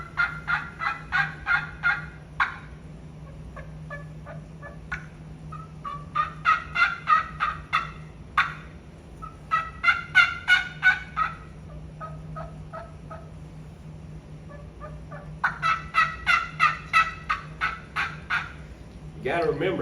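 A hunter imitates several turkey hens with calls, some clear and some raspier, louder and more aggressive, in short rhythmic bursts of yelps separated by brief pauses over a steady low hum.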